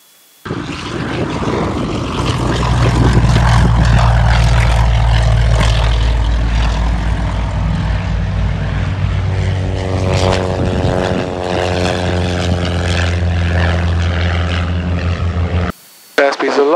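A light propeller aircraft drones steadily on final approach to runway 23, a loud continuous engine hum with harmonic whine throughout, briefly cutting out near the end.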